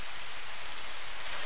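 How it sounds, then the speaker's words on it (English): Steady rain falls in the farming video game Harvest Moon: an even, continuous hiss with no breaks and no talking over it. "Oh my, it's raining outside."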